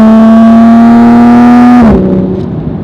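A Toyota Supra's B58 engine with a downpipe and no tune revs loudly and steadily with a strong tonal drone, then drops off sharply as the throttle closes, leaving a rougher, lower idle rumble.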